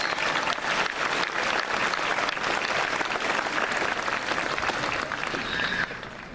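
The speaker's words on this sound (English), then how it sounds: "So give them a round of applause again" A graduation ceremony crowd at Elizabeth Forward High School gives the speakers another round of applause, dense sustained clapping that fills the room and starts to fade at the very end.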